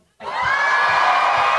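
A convention crowd at DragonCon erupts suddenly into loud, sustained cheering and whooping right after a hush, the roar holding at full volume.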